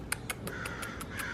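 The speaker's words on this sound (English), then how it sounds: "There's some crows outside." Crows caw outdoors in a quick, evenly spaced series of about seven harsh calls, moderately close and clear over a faint background hiss.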